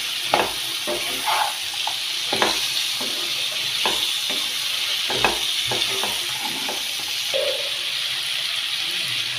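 Hyacinth bean pods being stirred in a pan, a spoon scraping and knocking in irregular strokes over a steady background sizzle of frying, with faint watery clatter now and then and no voices.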